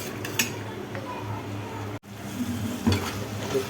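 Food fries in a pan in a home kitchen, with a low sizzle under stirring, scraping utensil strokes and occasional clinks of cookware, heard close and moderately quiet with a brief gap midway.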